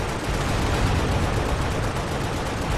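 Continuous gunfire from the Xbox One game Halo: Spartan Assault, a dense, steady crackle of shots filling the whole stretch with no pauses and no talk.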